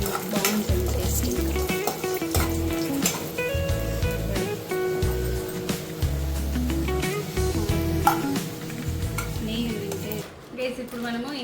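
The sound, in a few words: dry fruits frying in a pan for rava laddu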